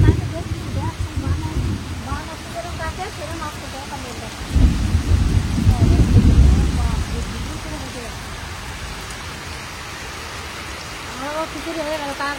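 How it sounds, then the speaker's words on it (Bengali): Thunder rumbles low and heavy through a steady downpour, one deep roll swelling in the middle of continuous rain hiss, with a voice speaking over it. "আমার কি মেঘ ডাকতেছে গো?"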